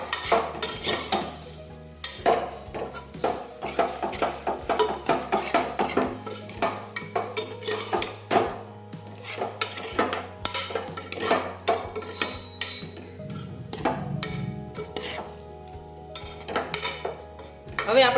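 Spices are stirred into a pot of valol bean curry with a metal spoon, giving rapid, repeated scraping clinks against the vessel at close range, steady throughout with brief pauses.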